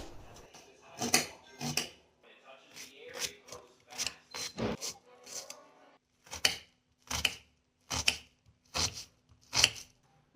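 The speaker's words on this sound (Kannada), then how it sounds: "ಒಂದು ಈರುಳ್ಳಿನ ಕಟ್ ಮಾಡ್ಕೊಳ್ತಾ ಇದ್ದೀನಿ" An onion being cut for a salad with a knife, probably on a board: a steady series of sharp, close chopping strikes, about a dozen in total, evenly paced with brief pauses, with no talk.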